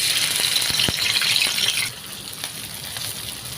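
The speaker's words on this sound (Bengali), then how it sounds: "দেখুন কড়াইটা আগে বসিয়ে নিয়েছি, আর তেলটা গরম হয়ে গেছে। এখন আমি মাছগুলো সব দিয়ে দিব।" Shrimp frying in hot oil in a wok, with a loud, steady, crackling sizzle that eases to a quieter hiss about halfway through. No one speaks.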